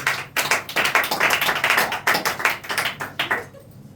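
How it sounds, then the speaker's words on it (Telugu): An audience in a church claps in a dense, loud burst of rapid hand claps lasting a few seconds, then stops abruptly. "చప్పట్లు కొడతాం"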